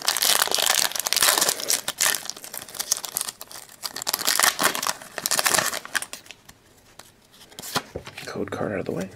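A Pokémon Black and White Plasma Blast card pack is torn open, with loud crinkling and tearing of foil wrapper that continues in close, busy bursts before easing off near the end.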